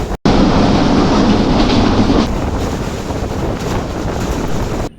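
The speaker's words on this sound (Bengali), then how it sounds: "অত্যন্ত জোরে যাচ্ছে ট্রেনটি।" Benapole Express passenger train in Bangladesh running at high speed, a loud continuous rush of rumbling wheels and wind buffeting the microphone, heard from on board with no talking.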